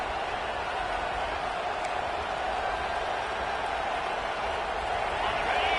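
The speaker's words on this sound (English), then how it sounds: "This crowd rising up, sensing that its defense needs some help." Steady, dense roar of a football stadium crowd rising as the home defense takes the field, a continuous wash of cheering with no clear pauses.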